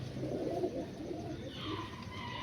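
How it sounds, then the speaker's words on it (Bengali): Pigeons of the Malwai breed cooing softly nearby in a low, murmuring rhythm, with faint background hiss and a few higher bird notes toward the end. "এই যে পায়রাটা"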